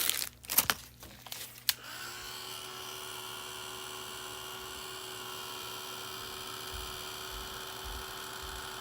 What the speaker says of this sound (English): you can speed up that popping process with that heat tool.